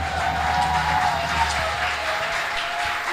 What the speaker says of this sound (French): Les applaudissements alors.